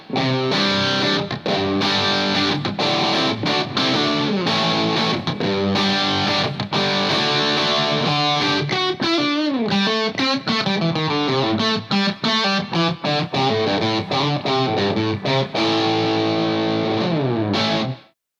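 An electric guitar runs through a lightly driven distortion pedal, playing sustained chords and riffs loudly and continuously, with a gritty but restrained edge.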